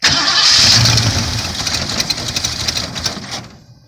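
A 1977 Ford Mustang engine cranks loudly and close, a rapid churning whir that nearly catches, then sputters and fades away without starting.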